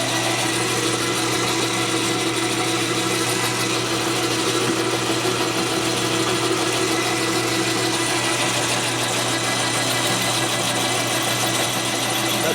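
Boring a hole in a knucklehead motorcycle engine part from a 1946 84ci stroker rebuild, a steady loud machining whir with a constant mechanical hum that drones on without a break, no talking.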